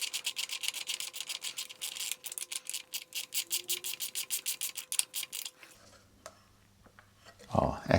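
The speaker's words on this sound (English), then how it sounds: "Right, let's tighten these up." A wrench ratchets rapidly on bolts securing fog light mounts to a Royal Enfield Classic 350 Reborn, a fast, close series of clicking strokes in bursts, then stopping before a brief low thud near the end.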